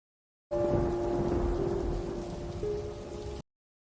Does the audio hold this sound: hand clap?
no